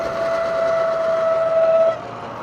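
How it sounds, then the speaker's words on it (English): A single high, steady squeal from the brakes of a rebuilt Surron electric dirt bike fitted with Warp 9 parts, held for nearly two seconds before cutting off, leaving faint background noise. "Oh, brakes don't sound too good."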